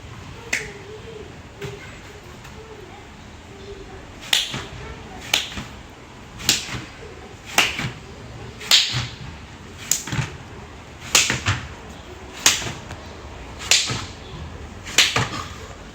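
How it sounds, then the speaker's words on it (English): Sharp, isolated hand claps come at a steady rhythm, about a dozen in all, from someone doing clapping push-ups, each crisp smack close and distinct over a quiet background. "I'm going to show you a dancing, clapping push-up for 10 times."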